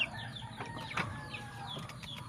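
A laying hen clucks in a backyard coop, soft repeated clucks and a few sharper calls at close range over a steady background hum and faint rustling; the hen has a habit of eating eggs.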